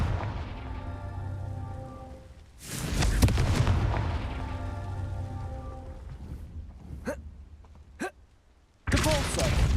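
A Confringo fire spell fires in Hogwarts Legacy, a loud whooshing, crackling blast, then a few sharp zaps and another burst over a quiet ambient tonal backdrop.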